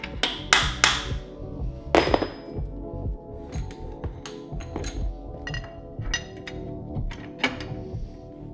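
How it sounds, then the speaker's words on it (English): Metallic hammer blows on a punch tighten a threaded collar on the triple trees of a Honda Trail 70 motorcycle build, several sharp strikes clustered early and more scattered taps amid workshop clatter. "I used a screwdriver or a punch and a hammer to get it nice and tight"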